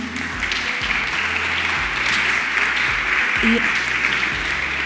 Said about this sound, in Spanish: os pido un fuerte aplauso